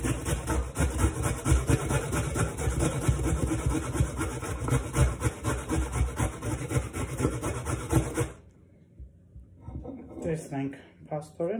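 Raw potatoes are rubbed quickly over a hand grater for an eye mask, making a close, continuous rhythmic rasping that runs for about eight seconds before stopping.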